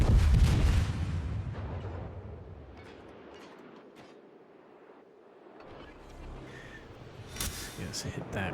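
Enemy warships fire their guns at a USS Sims destroyer in World of Warships: a heavy boom opens, a low rumble of sea and engine follows, and sharper cannon blasts return near the end.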